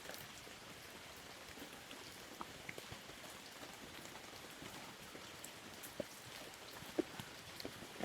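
Steady rain pours down onto a street, a dense even hiss with occasional louder drops and splashes close by, no voices.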